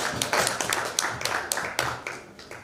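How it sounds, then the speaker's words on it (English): A modest audience at a discussion forum on ageing gives a round of applause, scattered individual claps tapping out irregularly at moderate volume, fading toward the end. "Big round of applause to her."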